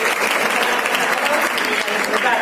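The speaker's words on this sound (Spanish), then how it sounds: "un aplauso para todos" A crowd applauds loudly and continuously at the Liga Endesa 2018-19 basketball season presentation. The thick, even clapping fills the whole stretch and sounds near and sustained.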